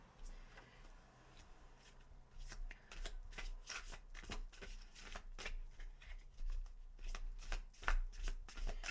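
Tarot cards are shuffled close by, a run of quick riffling bursts and soft slaps that grows busier and louder toward the end, no speech.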